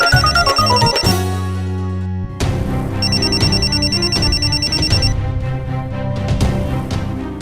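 A phone rings with a repeating electronic tone over background music in a Hindi TV comedy scene, loud and close, pausing briefly before ringing again.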